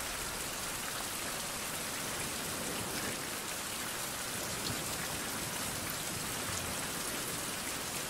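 Steady rain pours down in a survival video game, a dense, even hiss of drops on surfaces that continues without break and stays fairly quiet, with no voices.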